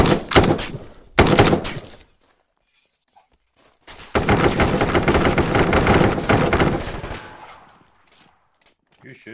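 Bursts of rapid automatic gunfire in the tactical shooter Ground Branch, two short loud volleys, a lull, then a longer sustained stretch of shots that tails off, with a faint voice in the gaps.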